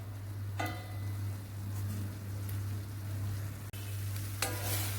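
Meat browns in a pan for a meat and tomato skillet dish, giving a steady close-up sizzle and crackle over a low hum, with occasional sharp clicks from stirring.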